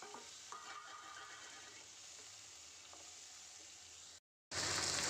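Tomatoes fry in a kadai for sambar, a soft steady sizzle with occasional faint stirring clinks, briefly cut to silence before a louder hiss resumes.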